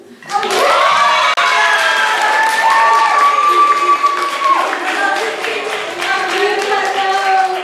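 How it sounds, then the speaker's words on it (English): A live audience at a reading event breaks into sustained applause, with dense clapping and some cheering throughout, loud and close, with no speech over it. "Can we get another round of applause?"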